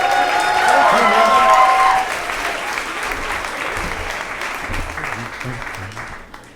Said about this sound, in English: How about a big round of applause for Neil Intraub?